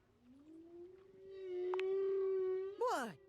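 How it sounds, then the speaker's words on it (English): A recorded sperm whale song plays from a deep-sea mammals record, a long rising tonal moan that holds steady, then a higher bending cry at the end, clear and alone. "It's your deep sea mammals record. Track 3, Song of the Sperm Whale."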